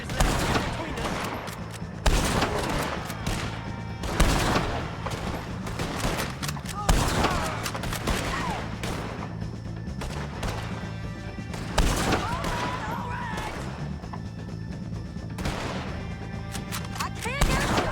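Repeated gunfire from a Red Dead Redemption 2 shootout against O'Driscoll gang members: loud bursts and rapid volleys of shots recur throughout, mixed with game effects and occasional shouted voices.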